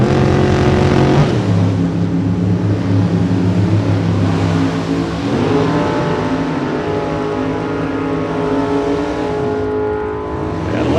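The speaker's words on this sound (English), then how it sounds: "we've got a pair of big block Chevys under the hoods" Big block Chevy-powered drag race cars, a Chevy and a Mopar body, roar loudly at the start line at Sonoma, engines rising and shifting pitch as they launch and pull away.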